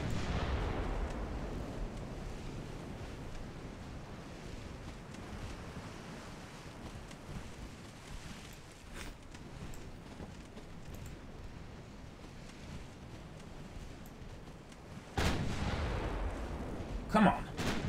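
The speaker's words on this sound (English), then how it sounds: "we are doing damage. Although that's also with the 2-inch guns." Naval 2-inch guns fire in the video game Ultimate Admiral Dreadnoughts, a steady rumbling roar of battle noise with sea and wind, and sharper loud blasts near the end.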